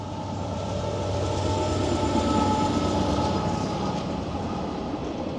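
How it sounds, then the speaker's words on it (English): A train rolls past on railroad tracks right beside an abandoned restaurant, a steady, loud rumble of wheels and wagons that holds evenly throughout without voices. "It's a train right there."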